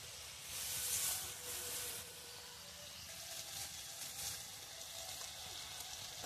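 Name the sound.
water poured into a hot pan of cooked tomatoes, sizzling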